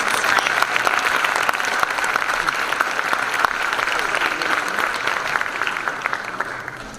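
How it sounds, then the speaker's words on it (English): Sustained audience applause for beauty pageant contestants at the Miss Dinuba 2023 pageant, a steady dense clatter of many hands clapping throughout, fairly close and even, fading slightly at the end. "can we please have another round of applause for all of our beautiful contestants tonight?"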